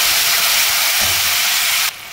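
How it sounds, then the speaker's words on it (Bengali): Cumin seeds, bay leaf, cardamom and cinnamon sizzle in hot oil as whole spices are tempered for a vegetarian milk-based dish, giving a loud, steady hiss that drops abruptly near the end. "এবার এই তেলের মধ্যে আমি একটু ফোড়ন দিয়ে দিচ্ছি জিরে তেজপাতা আর এলাচ দারচিনি"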